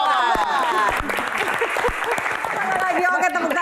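Audience clapping during a question-and-answer session with Sule, a dense burst of applause mixed with voices talking and calling out over it.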